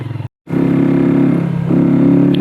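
A sports motorcycle climbs a hill road at night between Mainimukh and Khagrachari, its engine a steady close drone that cuts out briefly, then returns and rises slightly in pitch near the end.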